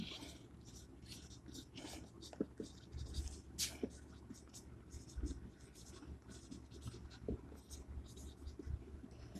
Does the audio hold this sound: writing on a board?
yes